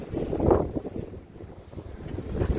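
Wind buffeting a microphone outdoors, a low, uneven rumble that swells and fades over a couple of seconds with no talking.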